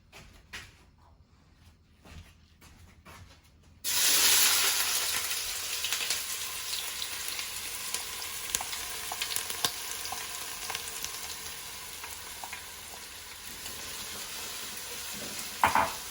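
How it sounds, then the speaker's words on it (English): Onions and garlic hit hot oil in a large pot and burst into a steady, close sizzle after a few seconds of quiet clinks, the frying hiss continuing evenly with occasional pops and stirring. "in a very large pot, I'm heating some oil, and the first thing I'm going to add are the onions and the garlic."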